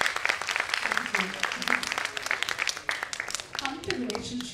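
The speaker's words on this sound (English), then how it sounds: "please, big round of applause" Clapping from the audience at a book release at a school of media and communication, brisk, uneven hand claps close by, with voices talking and calling out over them throughout.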